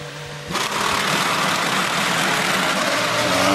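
Fisichella's Formula 1 car in the F1 2005 video game pulls away from the pits, a high-pitched engine whine that jumps in abruptly and then holds a loud, steady drone.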